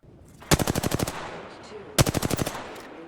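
Two rapid bursts of automatic gunfire in the video game Apex Legends, each a loud sharp string of about eight shots, separated by a short pause with faint ambient noise.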